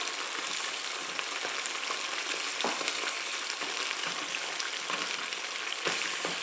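A tomato-based sauce sizzles and bubbles in a pan while being mashed, a steady close frying crackle broken by a few soft thuds and scrapes from the smashing, with no talking.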